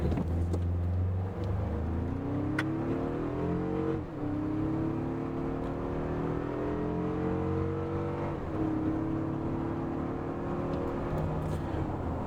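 A 2025 Toyota 4Runner TRD Off-Road in sport mode launches hard from a standstill, its engine note climbing steadily through the gears with two brief dips at the shifts, loud and close from inside the cabin.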